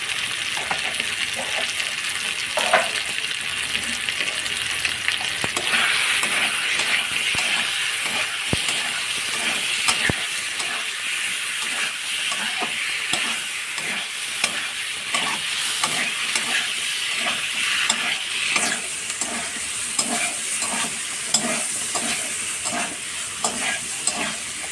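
Chillies sizzle in hot oil for a spinach and potato curry, with a constant loud frying hiss and repeated scraping, clattering stirs of a spatula against the pan, close up and continuous.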